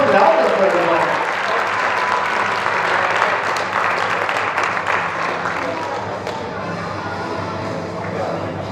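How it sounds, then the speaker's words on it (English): Applause from an audience at a black belt martial arts event, a dense wash of clapping that starts loud and fades gradually toward the end, with some crowd shuffling underneath. "So give those guys a round of applause."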